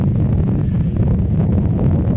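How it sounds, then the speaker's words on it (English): Wind gusting across a microphone on a hiking trail at Mercer Meadows in February, a steady low rumbling buffet that fills the whole stretch without pause. "Luckily, the wind's not so bad right now"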